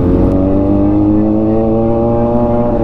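A big motorcycle engine holds a loud, steady drone close by while riding a mountain road during a Baguio breakfast ride, its tone rising only slightly, with no talking.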